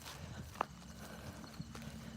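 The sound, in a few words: horse hooves clip-clopping on walker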